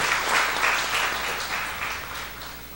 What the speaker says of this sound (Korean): 큰 박수 한번 해주시기 바랍니다